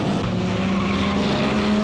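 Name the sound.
IndyCar race cars starting, Corvette pace car, Toronto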